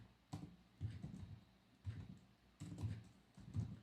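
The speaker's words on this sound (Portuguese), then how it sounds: "agora eu vou digitar aqui" Quiet typing on a computer keyboard while filling in a Google Sheets spreadsheet, with soft clusters of key taps in an uneven rhythm and short gaps between bursts.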